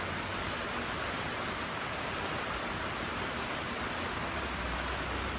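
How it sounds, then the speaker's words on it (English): Steady broadband rush of water flowing in a creek, constant and fairly close, with no talking and no change in level over the few seconds. "by this beautiful creek and enjoying the sound of it."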